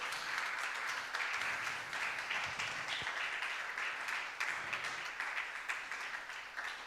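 A church congregation claps together in a steady, fairly distant wash of applause lasting several seconds, with no prominent voices over it.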